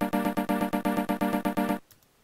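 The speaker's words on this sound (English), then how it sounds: "I want each note to fade out quickly, but with different values to create a cool rhythm like this" A Protracker module plays a run of short repeated notes, each fading out quickly through volume slide commands. The evenly spaced hits form a bouncy rhythm and stop abruptly, leaving near silence.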